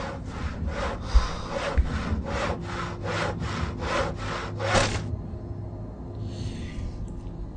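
In the Penumbra video game, a hand saw cuts wood in about ten steady rhythmic back-and-forth strokes, loud and close, followed by a brief quieter scrape as it stops.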